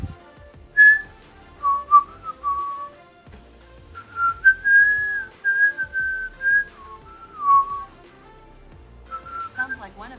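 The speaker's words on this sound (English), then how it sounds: "So I'm going to whistle." A person whistles a song, a clear solo melody of sustained and sliding notes in short phrases, close and alone, for about ten seconds.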